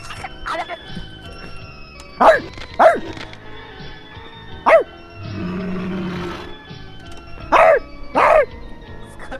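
A dog in a video game barks sharply several times in spaced pairs, with a low growl in between, amid constant background noise.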